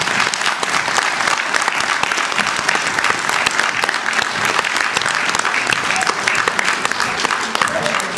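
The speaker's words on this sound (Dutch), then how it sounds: "Geef ze een hartelijk applaus terwijl ze weglopen." Applause for children leaving the stage at a school grandparents' celebration, a dense, sustained clapping from an indoor audience that stays loud and even throughout, without letting up.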